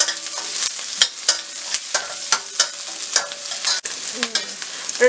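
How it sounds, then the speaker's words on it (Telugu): Onion, ginger and garlic fry in oil in a pan, a loud continuous sizzle broken by regular stirring scrapes and clacks of a spoon, close and alone. "అల్లం వెల్లుల్లి వేసుకోవాలి. 4-5 వెల్లుల్లి రెబ్బలు, కొంచెం అల్లం వేసుకొని ఫ్రై చేసుకోవాలి."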